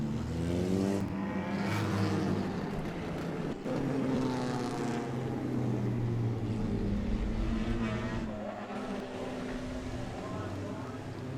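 Mini stock race cars, about thirteen strong, roar around a speedway oval in a winter ice-crusher event, their engines a steady loud drone with pitch rising and falling, while a voice talks over the whole stretch.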